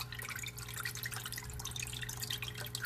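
A decorative cascade water fountain in a home kitchen trickles and drips continuously, with water spilling down its tiers in a close, soft, steady patter with no voices.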